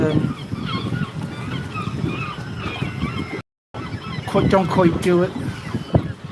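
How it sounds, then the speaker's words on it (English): Gulls call in bursts over open sea, with a cormorant colony area nearby, from a research boat off Fukushima; harsh honking cries come close and loud over wind and engine hum, and a short dropout splits the sequence. "there is a lot of gulls in the air"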